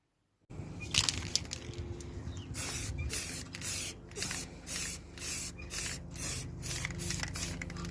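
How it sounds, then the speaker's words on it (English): Pressurized spray hissing from an aerosol can of yacht varnish in repeated bursts, broadband and close, with steady short pulses later on. "Now spraying the yacht varnish on top"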